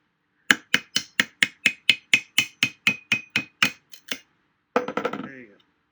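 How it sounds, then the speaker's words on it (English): About fifteen sharp metallic hammer taps strike a screwdriver in a steady rhythm to pry apart part of a Savard HiQ 10-inch subwoofer. After a short pause comes a final clattering knock with a ringing tail. "Hammer and a screwdriver. And we're just going to try and just pop our way under here."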